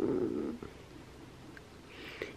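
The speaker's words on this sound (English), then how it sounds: "He's purring so hard right now." A house cat purring hard while being petted, a close, low rumbling purr at the start that fades into quiet breathy rustle.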